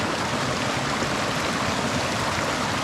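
Mountain stream rushing beneath a log bridge on a wooded trail below Mt Shavano and Mt Tabeguache in Colorado, a loud steady broadband wash of flowing water filling the whole stretch, close by, with no talking.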